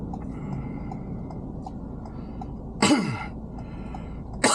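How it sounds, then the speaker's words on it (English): A single sharp cough rings out against a low background hum, with another abrupt cough starting right at the end. "Man, what's with the coughing?"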